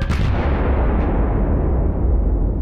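A gunpowder explosion opens with a sharp blast that swells into a loud, sustained rumbling roar for a few seconds, with no voices.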